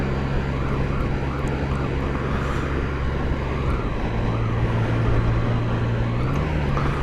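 A Can-Am Ryker three-wheeler rides along with a steady engine drone and wind rush, and the engine pitch steps up as it changes gear partway through.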